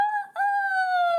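A rooster crows once, close and clear, a sustained call with a brief break near the start, alone without other sounds.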